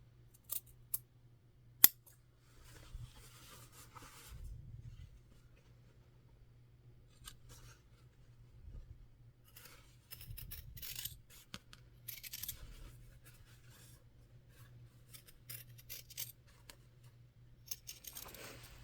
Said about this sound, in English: Now I'm going to cut on that line all the way around.